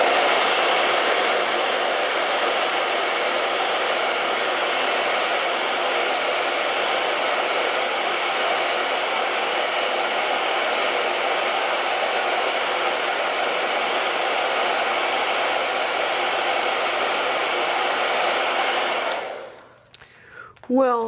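A hair dryer blows steadily at close range over a painting, a loud continuous whoosh that holds for most of the clip before cutting off abruptly near the end.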